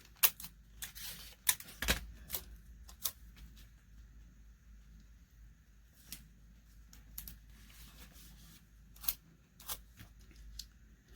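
Tape being torn and pressed onto paper collage bookmarks at a craft table: short, sharp crackling bursts come at irregular intervals, close and fairly quiet, with no talking.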